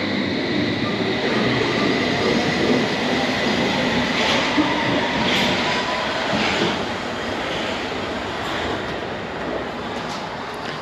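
A loud, steady rumble of a London Underground train rolling past, with rattling wheels and a faint high whine, easing slightly toward the end.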